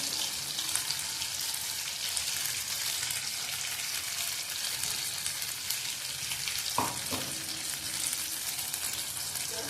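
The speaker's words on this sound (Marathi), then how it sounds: "आता मसाला आपण भाजूया" Masala spices roast in oil in a pan over low gas while cooking shahi paneer, giving a continuous soft sizzle and crackle with a brief scrape of stirring partway through.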